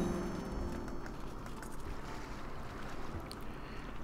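A sailing ship glides across the sea in Crusader Kings 2, heard as a steady, even wash of water and wind that holds at a constant level throughout with no voices.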